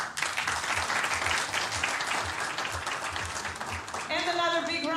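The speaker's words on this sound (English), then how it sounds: "And another big round of applause for him." Crowd applause rings out for a Turkish air rifle athlete at a men's air rifle final in Wroclaw, Poland, a dense, steady clapping wash lasting throughout, with a voice speaking over the end.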